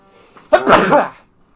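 A single loud sneeze close to the microphone, preceded by a short inhale, then silence.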